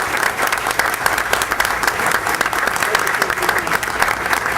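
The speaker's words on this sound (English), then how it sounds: "if we could give them a round of applause." A room of people at a town council meeting in Mountainside, New Jersey clapping for a group of scouts, brisk, loud, close applause with sharp individual claps, short and sustained.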